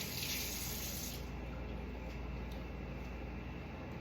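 Vegetables being rinsed under tap water at a kitchen sink, a steady close rush of running water throughout with no talk.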